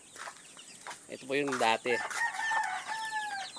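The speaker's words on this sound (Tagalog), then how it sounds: "Ito po yung mga manok natin." Backyard chickens cluck and a rooster crows at a Philippine home flock with newly hatched chicks, close and lively, while a person talks in Filipino over the birds.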